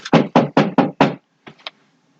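Knuckles rap firmly on a door six times in a quick, even series, close and loud. After a short pause come three softer, lighter taps.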